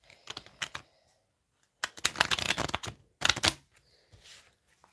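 Tarot cards are shuffled in quick, crisp bursts of riffling and flicking, with short pauses between the shuffles.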